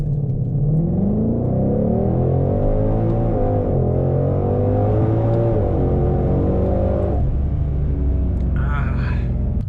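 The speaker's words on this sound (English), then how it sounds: "foot on the brake, foot on the gas" A Ford Shelby GT500 engine is held at high revs for a launch, loud and close, its pitch climbing and wavering before dropping off abruptly near the end.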